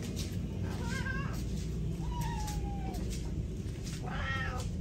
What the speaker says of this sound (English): They're meowing like crazy.